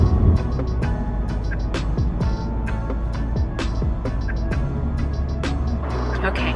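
A car driving along a road in the rain or on wet pavement, with steady low engine and tyre rumble throughout and repeated sharp ticks or drops over the top, continuous and fairly loud.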